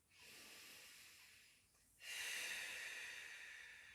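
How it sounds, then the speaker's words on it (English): A person breathes out audibly through the mouth in an exaggerated, steady exhale during a Pilates mobility exercise; two breathy exhalations, the second louder and longer, close and with no speech. "breathing out through the mouth."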